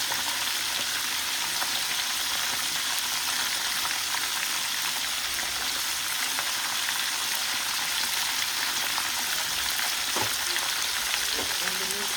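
Food fries in a pan on a stovetop, a constant crackling sizzle at a steady level throughout, with a few faint clicks near the end.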